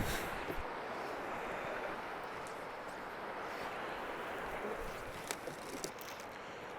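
A strong headwind of more than ten miles an hour buffets an outdoor microphone during fly casting, a continuous loud roar with a few faint knocks.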